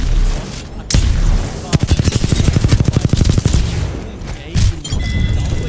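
Gunfire in a shooter video game, a loud, close, rapid automatic burst of evenly spaced shots lasting a couple of seconds between heavier single blasts.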